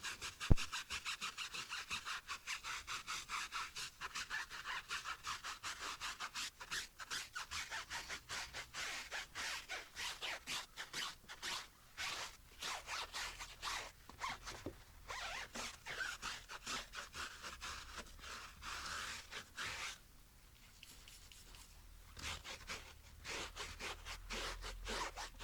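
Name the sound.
rough brush scrubbing car tyres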